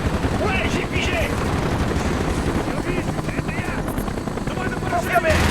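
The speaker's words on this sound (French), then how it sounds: "Hudson, il faut que tu abattes ces hélicoptères" Helicopter rotors thrum loudly in the Call of Duty: Black Ops campaign while rapid bursts of gunfire crackle throughout, with voices speaking over the chaotic battle noise.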